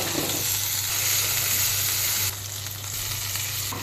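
Onions fry in hot oil in a pan, producing a continuous close crackling sizzle that eases slightly partway through, with no voices.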